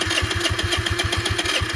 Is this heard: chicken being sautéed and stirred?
no